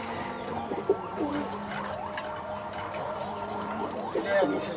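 High flyer pigeons of imported bloodline in a large loft coo and warble in short repeated phrases, with a couple of louder calls, while people talk nearby.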